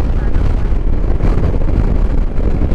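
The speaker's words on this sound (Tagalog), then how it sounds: "grabe lakas ng hangin ngayon dito guys" Powerful wind on a beach in Burgos, Ilocos Norte, pounds the microphone with a loud, constant roar and low rumble, sustained without pause at close range.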